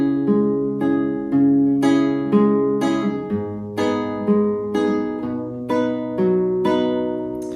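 Fingerpicked guitar plays a simple, steady repeating pattern, each note ringing out clearly as the harmony shifts through a few chords.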